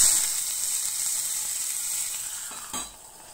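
Mustard seeds and curry leaves sizzle in hot oil for a dal tempering, a close, bright hiss that fades slightly, broken near the end by a brief scraping stir, with no voices.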